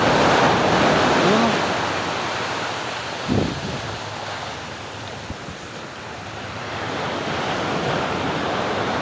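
Large ocean waves crash and surge onto a shore with a broad roaring wash and wind noise, swelling and receding, with a brief voice heard once.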